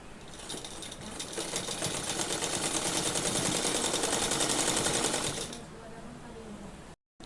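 An electric sewing machine stitches fabric for a Patiala salwar, a rapid continuous mechanical chatter that swells for about five seconds and then stops, leaving quiet room sound.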